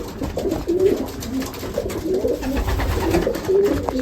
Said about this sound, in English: So all the young birds are back in.